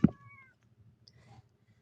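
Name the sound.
kittens meowing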